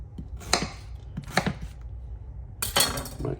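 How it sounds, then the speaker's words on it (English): A knife chops watermelon into big chunks on a board, three distinct crisp thuds spaced about a second apart, close and clear with no talking. "We're gonna just cut nice big chunks."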